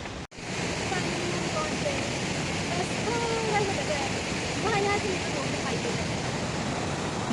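A waterfall on the Kareri Lake trek near Dharamshala in Himachal Pradesh: a steady, close, full-bodied roar of rushing water that fills the whole clip, briefly cut at the start, with faint indistinct voices underneath.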